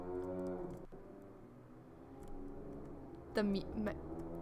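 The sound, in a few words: cow mooing in a video game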